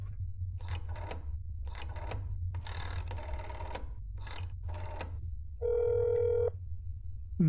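A phone in the game That's Not My Neighbor gives a series of short dialing bursts, then a steady electronic ring tone, fairly close and clear with no talking.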